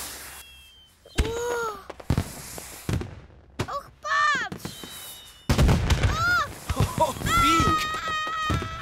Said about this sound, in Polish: Znienacka głośno huknęło i Bing się przestraszył.